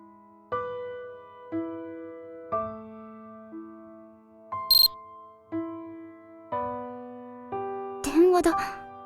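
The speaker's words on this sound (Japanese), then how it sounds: "電話だ。 こんな時に。" A phone ringtone inside a video game plays a repeating tonal melody in even bursts, mid-loud and close, with a brief higher chirp midway and a noisier flutter near the end. No voice is present.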